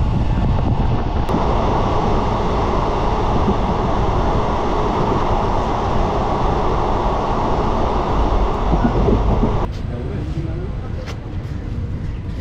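The Teesta Torsa Express passenger train roars along in a loud, continuous rumble with wind buffeting, heard from onboard. The din eases slightly near the end.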